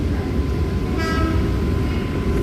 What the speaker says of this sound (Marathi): आणि ऑल्सो एक फास्ट लोकल आहे बघा